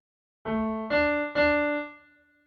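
On a keyboard, three notes from the first half of the opening bar of the Ganesh Aarti Ek Dantay Vakra-tundaya are played one after another, each held and ringing, clear and close, with no voices.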